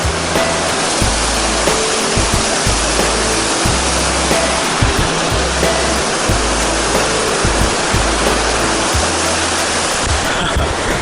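The Robson River rushes loudly in a steady, roaring torrent of whitewater, heard up close, with continuous broadband noise and no voices.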